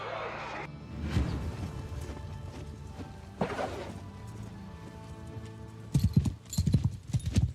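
Horse hooves clip-clopping under a mounted commander in the video game Old Realms, rhythmic thuds with a whinny and battle noise, louder bursts of hoofbeats toward the end, with voices mixed in.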